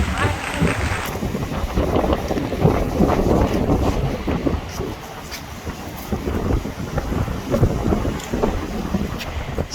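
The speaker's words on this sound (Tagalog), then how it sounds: "Sobra po talagang mahangin." Strong wind buffets the microphone in heavy continuous rumbling gusts beside Sylvan Lake, loud and close throughout, with faint voices underneath.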